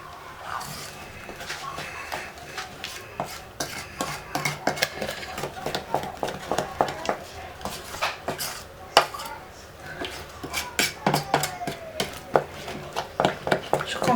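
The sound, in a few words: stirring mango fruit paste mixture in a pan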